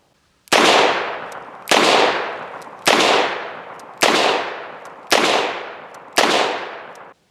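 A Chiappa Rhino revolver fires .38 Special rounds: six sharp, loud shots, roughly one every second, each ringing briefly into a short decaying tail, with no talking.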